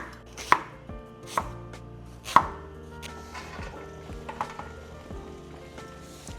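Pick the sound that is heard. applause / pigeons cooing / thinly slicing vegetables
thinly slicing vegetables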